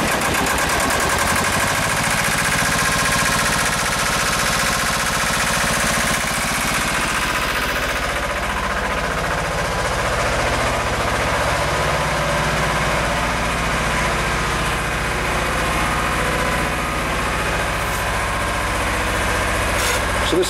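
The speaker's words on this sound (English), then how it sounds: "nothing says blast from the past like a good old air-cooled Deutz diesel." An old air-cooled Deutz diesel engine runs at a steady idle, a continuous loud mechanical drone with a low rumble and rattling vibration throughout, heard up close with no speech.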